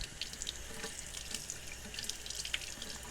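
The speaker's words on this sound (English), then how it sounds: "We're gonna wash our lemongrass leaves." Lemongrass leaves are rinsed under running tap water at a sink, a steady rushing stream with light splashing and rustling as the leaves are handled, fairly quiet and without talking.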